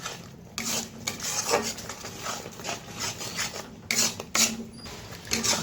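Turmeric and Kashmiri chilli powder stirred in a pan for a prawn and yogurt curry, giving a steady, close run of rhythmic scraping and rubbing strokes with a few sharper clatters, and no voices.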